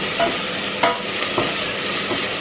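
Onions fry in a pan with a steady, close sizzle, broken by a few soft scraping stirs.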